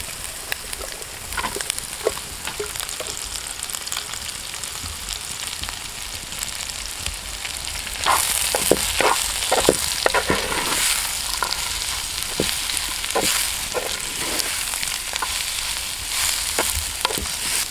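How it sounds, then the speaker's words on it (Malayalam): Onions frying in hot oil for a quail egg biryani, a steady broadband sizzle with scattered crackles and pops that grows louder and busier about halfway through, with occasional stirring scrapes and no talk. "ഇതെല്ലാം ഒന്ന് മൂത്ത് വരുമ്പോൾ നമുക്കതിലേക്ക് നമ്മുടെ സവോള ഇട്ട് കൊടുക്കാം."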